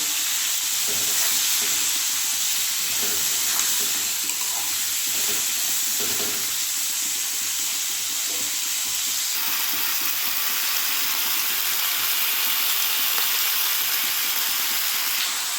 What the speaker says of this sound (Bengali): পরিমাণ মতো হলুদ এবং লবণ। খুব ভালোভাবে ভেজে নেব।